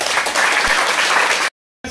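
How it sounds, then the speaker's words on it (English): A loud round of applause from an audience at a school institution gathering, a dense close wash of clapping that cuts off abruptly and then briefly resumes. "let's give a round of applause."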